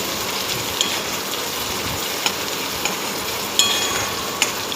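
Finely chopped medium onion frying in oil, a steady close hiss of sizzling with a few sharp crackles and pops scattered through.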